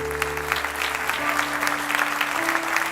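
Sustained applause from a congregation during a church celebration service, steady clapping filling the whole stretch with a held organ or keyboard chord underneath.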